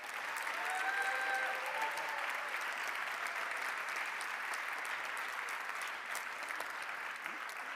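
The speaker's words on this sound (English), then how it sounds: "Can we give another round of applause for Ms. Carla Qualtro?" An audience at a conference award ceremony claps warmly and continuously for nearly eight seconds, a moderately loud, even patter of many hands with a faint whistle-like tone near the start.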